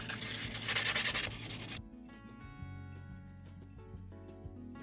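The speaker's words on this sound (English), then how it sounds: "I'm going to give these just a light sanding with some 400 grit sandpaper" Close, rhythmic rubbing with 400 grit sandpaper on 3D printed gauntlets in quick back-and-forth strokes for about two seconds, then stopping; quieter background follows.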